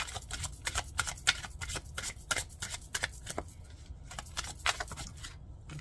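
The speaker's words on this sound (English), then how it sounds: "I'm gonna lay out the cards and then I'll start talking." Tarot cards are shuffled and laid out on a table, a close run of rapid papery riffles and soft slaps with short gaps, no talk.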